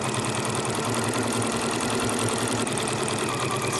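A sewing machine quilts a fabric panel for a machine cover in a steady, continuous mechanical whir with a fast needle rhythm that holds evenly throughout, close and alone.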